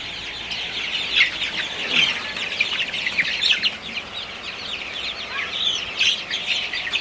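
Sonali super hybrid chickens cluck and chatter continuously inside a shed, a dense flock of overlapping calls that stays steady and fairly near.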